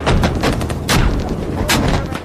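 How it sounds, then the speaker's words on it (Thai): Gunfire rings out at intervals as a sound effect in a Thai ghost story about a deadly protest, with loud, close booming shots and two sharp blasts standing out over a dense, rumbling background. "เสียงปืนดังขึ้นเป็นระยะระยะ"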